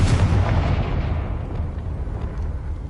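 A Confringo fire spell explodes in the video game Hogwarts Legacy, a loud, close, booming burst with a heavy low rumble that decays gradually over three seconds, alone and with no talking.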